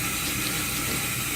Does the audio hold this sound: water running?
yes